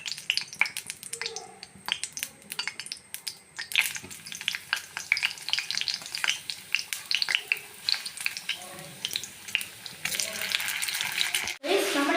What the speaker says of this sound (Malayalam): ഇനി നമുക്ക് ഓരോന്നായിട്ട് ഇട്ട് പൊരിച്ചെടുക്കാം